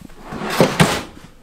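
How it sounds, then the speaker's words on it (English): A large pot and pan drawer beneath the kitchen counter of a 2020 Grand Design Transcend 29TBS travel trailer slides and shuts, giving two quick soft knocks close by. "Big pot and pan drawer underneath."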